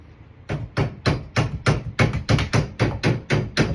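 A hammer strikes a copper pipe fitting at a single Moen valve, about a dozen sharp, loud, evenly spaced blows in a steady rhythm, with nothing else heard between them.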